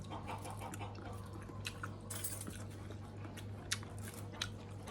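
Close, quiet crunching and chewing of crunchy papaya salad eaten with dry noodles, with soft irregular bites over a steady background hum.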